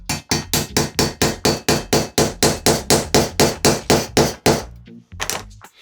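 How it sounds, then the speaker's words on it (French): A hammer strikes a screwdriver to drive a hammer-in anchor into a concrete slab, about sixteen sharp, evenly spaced metallic blows in a steady rhythm, loud and close, ending with a couple of softer taps. "on le positionne et on tape sur le tournevis"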